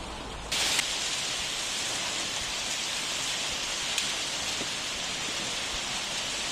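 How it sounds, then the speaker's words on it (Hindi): Heavy rain with hail falling on a wheat-growing area, a dense steady downpour hiss that starts abruptly and continues evenly, with an occasional sharper impact over the roar. "तेज बारिश के साथ ओले गिरे हैं यहाँ।"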